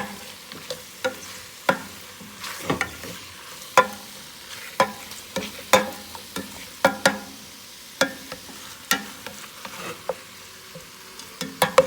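Chicken pieces for arroz con pollo fry in a pot over a lit flame, a low sizzle punctuated by a regular series of sharp spoon clacks and scrapes against the pot as it is stirred.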